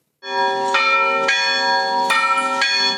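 Loud, close bells of a 1794 church in Velyka Kamianka, Ukraine, ringing with rich sustained tones, new strikes arriving every half second or so and overlapping as they ring on.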